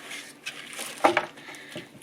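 A knife chops through the ends of green onions on a cutting board, a few soft, quiet taps and squishy cuts with one firmer chop in the middle, close and alone.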